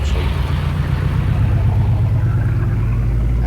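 A 4WD grinds up the steep Albion & Gunns mountain track along a ridge in the Victorian High Country. Its engine makes a loud, close, continuous rumble that barely varies.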